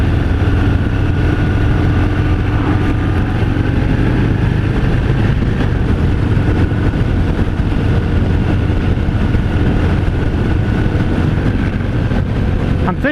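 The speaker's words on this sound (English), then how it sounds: "I'm thinking that this particular engine, the 114 at least, likes to be around the 2500 to 2800 RPM" A 2018 Harley-Davidson Fat Bob 114 cruises with its engine holding steady revs, a loud, continuous low rumble mixed with wind noise from riding.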